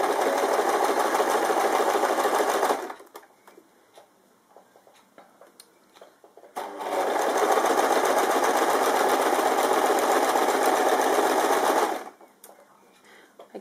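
A sewing machine stitches bias binding onto fabric around a curve, running in two loud, steady whirring bursts of several seconds each with a quiet pause between.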